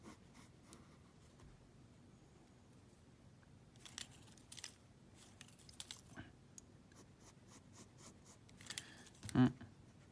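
A pencil drawing a nose on paper, soft scratchy strokes in short irregular bursts, close and faint, with one louder scuff near the end.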